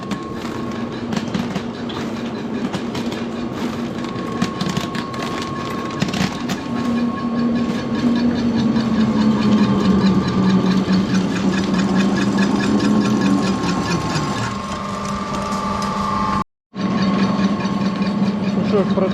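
A pellet granulator machine turns steadily, producing hot sticky pellets, giving a continuous mechanical rumble with a rhythmic knocking clatter and a low hum that drops briefly near the end.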